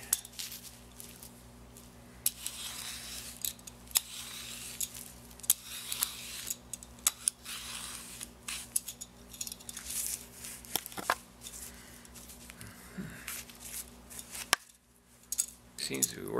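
A handheld potato peeler scrapes and shaves clay in short, irregular strokes, with faint light clinks and scratches close by over a quiet background.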